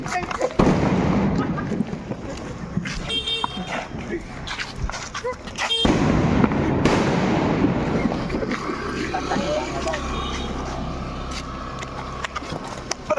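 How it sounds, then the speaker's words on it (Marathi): Firecrackers burst outdoors in loud, ragged crackles, with a break in the middle. Wind buffets the microphone and voices are heard throughout. "झाले फुटले बाकीचे फटाके"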